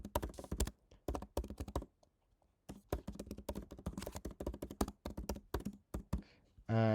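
A computer keyboard clatters with quick, dense bursts of keystrokes as a name and email address are typed, broken by a short pause.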